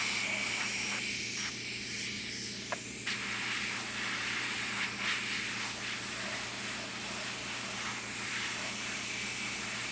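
An airbrush sprays paint in a steady, soft hiss onto a 1/4-scale Aquaman figure, running continuously and fairly close with slight changes in pressure and no talking.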